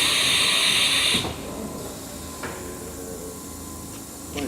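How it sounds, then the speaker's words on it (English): Haas VF3B CNC mill (2008) with a 24-tool side-mount changer running simulated tool changes: a loud steady hiss cuts off after about a second, followed by low mechanical hum with a few brief clunks and slides. "We're simulating tool changes right now"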